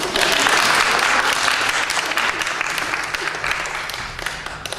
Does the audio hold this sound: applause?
yes